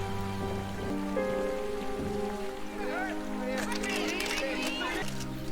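Steady rain pours through a dramatic TV drama scene, a constant wash under music and voices talking over it.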